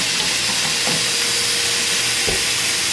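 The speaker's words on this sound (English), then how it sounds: "So I'm going to go ahead and add my ground beef in." Ground beef sizzles and hisses in a hot pan, a loud continuous frying crackle with a couple of brief clunks, no voices.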